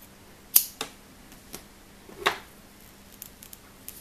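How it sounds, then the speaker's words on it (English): Scissors snip through crochet yarn close up, a few quiet, sharp clicks spaced irregularly against near silence. "Let's pull those tail ends tight and then we can cut our yarn."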